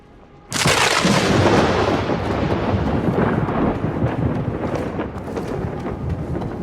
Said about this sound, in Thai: รอจังหวะฟ้าผ่าครับ